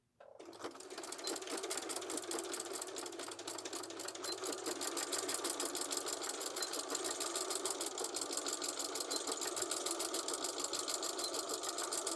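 A sewing machine runs fast and steadily while stitching the overlapped fabric ends of a skirt, a rapid even mechanical rattle after a short start, close and alone.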